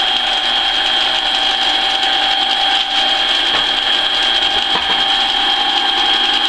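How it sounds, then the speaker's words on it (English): A drill boring a through hole in a wheel workpiece whirs steadily with a high, sustained mechanical whine, close and loud, with a few brief clicks and shifts in load along the way. "So now we drill our through hole."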